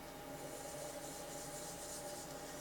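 Sandpaper rubs against a glue finish on an antler pen spinning on a lathe at about 700 to 800 RPM, producing a faint, continuous hiss with a steady motor hum beneath.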